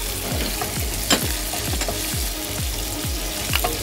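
Yellow and green capsicum frying in a pan while being stirred, a loud continuous sizzle with regular scraping strokes of the utensil roughly every half second, close up and without talk.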